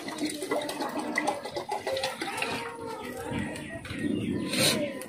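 Water, about a litre and a half, is poured into a pot of mutton biryani, giving a splashy, gurgling stream amid clattery kitchen noise and a faint background voice.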